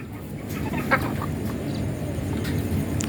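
Rhode Island Red chickens about two and a half months old cluck and chirp together, a dense flock murmur with a brief louder call standing out, close and continuous without talk.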